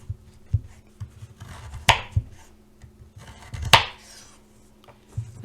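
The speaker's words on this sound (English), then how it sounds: "I would just take these pieces and toss them into that bowl I was mentioning. And just keep cutting straight down." Knife chopping sweet potato into fries on a cutting board: a few soft, close taps alongside two crisp, sharp cuts spaced apart, in a quiet setting.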